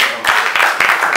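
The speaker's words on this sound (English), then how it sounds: "please, a round of applause for MC Free." Applause for a comedian at a comedy night in Nigeria: a dense, continuous patter of many hands clapping, loud and steady through the short stretch, with no voices over it.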